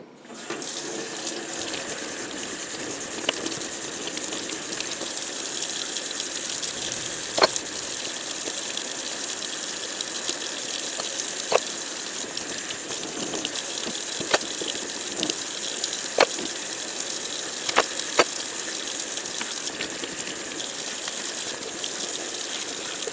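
A tap runs steadily at the sink as tie-dyed fabric is rinsed out. The gushing water stays constant throughout, with a few faint clicks and splashes from the handling.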